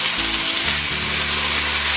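Potatoes and parsley frying in a pan for a Slovenian frika while being stirred, a steady, fairly loud hiss and sizzle with faint scraping, heard alone without talk.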